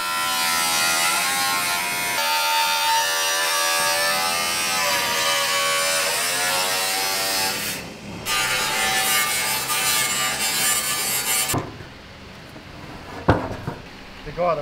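Power tool cutting hinged inspection pieces into the mudguards of a Jagdpanther tank destroyer under restoration, a loud continuous buzzing whine with shifting pitch and rasping bites for about eleven seconds, then stopping, leaving quieter workshop clatter.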